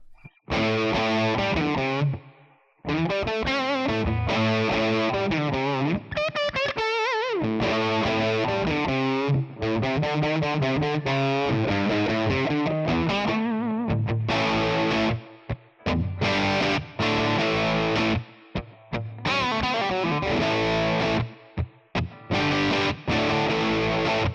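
An electric guitar plays through a Tonex One amp model with reverb added, giving sustained distorted chords and melodic runs that ring into brief gaps, loud and up front with no talking.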